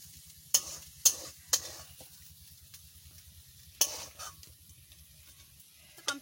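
Kundru, or ivy gourd, frying in a pan, with a quiet continuous sizzle under repeated spatula scrapes and clinks against the metal, several sharp strokes early and a few more later.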